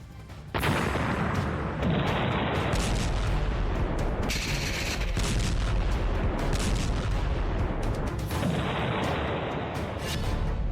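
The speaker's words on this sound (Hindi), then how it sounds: "धमाका हुआ है, जोरदार धमाका हुआ है" Loud, continuous booming and crackling blasts roll on for several seconds at the Zaporizhzhia plant in the Russia-Ukraine war, heavy low rumble with sharp bursts, like nearby explosions and gunfire.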